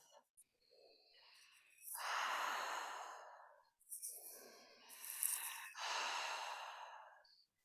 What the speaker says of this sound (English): even inhalation, even exhalation. So if you think of a circle, your inhalation is half a circle